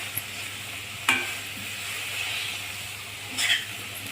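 Green chickpea leaves being stir-fried in a pan at home, a soft steady sizzle with a couple of brief scraping stirs, no voices.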